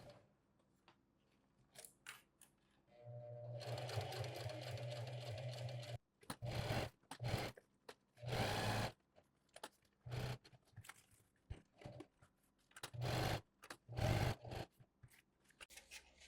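A sewing machine stitches a 1/4 inch seam around the perimeter of a tear-away utility pouch, with one long steady run of rapid needle chatter followed by a series of short start-stop bursts, close and clear with quiet gaps between.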